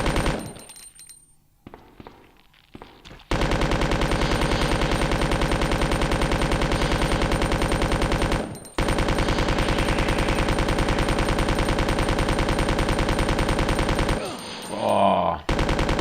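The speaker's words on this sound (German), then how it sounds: "Ich baller halt jetzt mal ein bisschen." Rapid automatic gunfire from the PlayStation survival horror game Resident Evil 2, a loud, dense stream of shots running almost without pause after a quiet opening, with one brief gap midway and a faint voice near the end.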